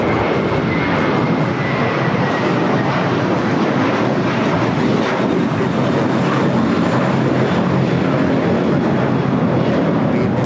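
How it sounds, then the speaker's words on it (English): A JetBlue Airbus A321 built in 2016 takes off from LAX, a loud, continuous broadband jet engine roar that stays strong and steady from start to finish. "924 taking off to JFK on the A321 minted 2016"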